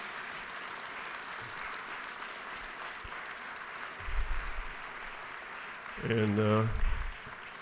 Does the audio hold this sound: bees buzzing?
no